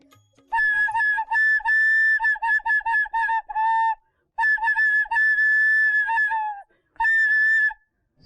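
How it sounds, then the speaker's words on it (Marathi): A whistle blown loudly and close in a series of short, sharp bursts, some long and some clipped, forming a tune for a song-guessing challenge on a Marathi home-entertainment TV game show. "शिट्टी वाजली"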